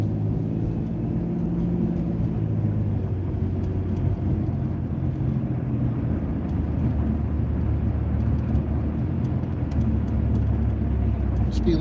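A car drives in heavy traffic on a road posted at 50 where others go 65 to 70, its engine a steady low rumble with road noise throughout, close and continuous, with no clear rise in revs.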